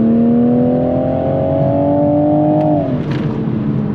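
A Toyota Supra on stock setup accelerates hard toward 4,000 rpm, its engine note climbing steadily and loud up close, then dropping sharply as the throttle lifts near the end; no talking.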